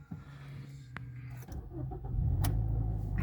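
A 2006 Mazda6 with a 2.0 petrol engine cranks briefly and catches, settling into a low, steady idle heard from inside the car, preceded by a few faint clicks.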